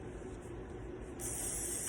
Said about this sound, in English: and just spray a little bit on